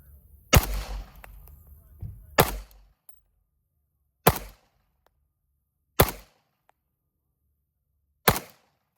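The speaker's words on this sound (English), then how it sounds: "5 rounds at about 10 yards." Five single pistol shots from a Sig Sauer P211 GTO fired outdoors at about 10 yards, each a sharp, loud crack spaced roughly two seconds apart with near silence between.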